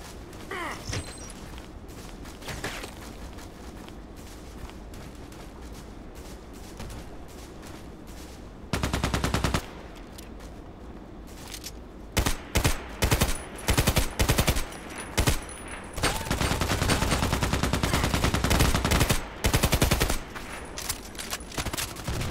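Rifle fire from an AK-105 and SA58 in the online shooter Contract Wars: loud bursts of rapid automatic shots come in clustered volleys, with short pauses between strings of fire and no talk over them.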